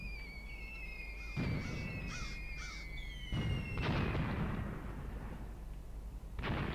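Friendly artillery fire booms in the Graviteam Tactics war game set at Kharkov in 1942, several heavy distant blasts landing at irregular intervals amid crow-like cawing, with no talk.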